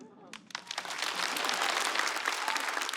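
Live stand-up comedy audience clapping, a dense burst of applause that swells quickly and holds steady, with crowd noise mixed in.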